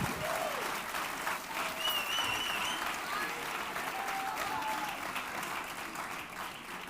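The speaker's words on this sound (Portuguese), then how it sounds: "Aleluia, aplauda ao Senhor." A church congregation claps together in a sustained burst of applause that fades slightly toward the end, with faint shouts and voices rising over the clapping.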